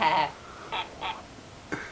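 A parrot imitates human speech, uttering three short, separate voice-like calls that are moderately loud and close, with short pauses between them.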